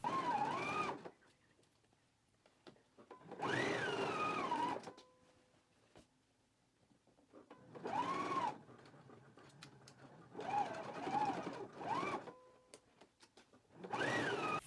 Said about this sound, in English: we can go ahead and stitch it in a 5/8 of an inch seam allowance and then stitch it again at a 1/4 of an inch seam allowance